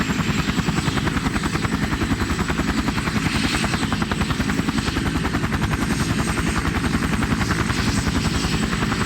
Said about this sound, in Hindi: दोनों हेलीकॉप्टर में बैठ गए।